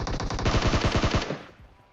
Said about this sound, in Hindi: भाई कूदते हुए बिल्कुल हवा से फायरिंग देते हैं।